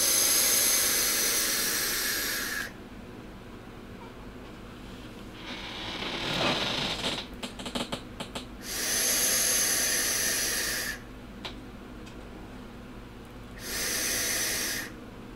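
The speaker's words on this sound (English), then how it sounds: "let's take it for a vape. Airflow is wide open" Long draws on a Wotofo Conqueror RTA vape tank with its airflow wide open give a loud, close, breathy hiss lasting a couple of seconds each, separated by quieter exhales and soft handling clicks.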